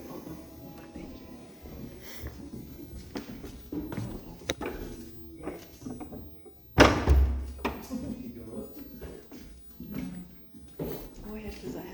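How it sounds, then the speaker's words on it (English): A door in a Spanish Colonial Revival mansion in Southern California shuts with a single heavy thud midway through, amid scattered knocks and footsteps while people talk during a guided tour. "if you will close the door when you come"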